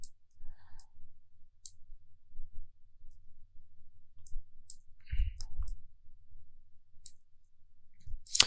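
A computer mouse clicks while editing a poster design in Adobe Photoshop, giving sharp, faint, isolated clicks spaced irregularly over a quiet background with low murmurs.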